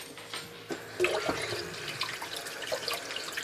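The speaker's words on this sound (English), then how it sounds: "Wash my hands." Water runs from a kitchen tap over washing hands, a soft steady splash with small shifts as the hands move through the stream.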